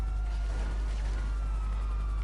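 A police siren in Grand Theft Auto 5 Online wails steadily and fairly loudly through the whole moment, sustained tones gliding over a continuous low game rumble, with no talk over it.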